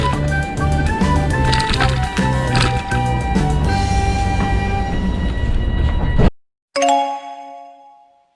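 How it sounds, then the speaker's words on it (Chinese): Train rolling along the rails with a steady low rumble and tonal hum, cutting out abruptly, followed by a short chime that rings and fades; a train arriving at Krems on the Danube in Austria. "我们搭火车来到了位于多瑙河畔、奥地利首都维也纳西边70公里处的城镇克雷姆斯"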